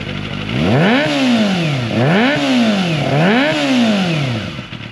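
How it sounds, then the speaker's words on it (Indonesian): A Kawasaki ZX25R with an Akrapovic exhaust revs loudly to 4000 rpm three times in a steady rhythm, each rise in pitch falling back before the next, with a raspy exhaust tone throughout. "Ini untuk suara NPM 4000."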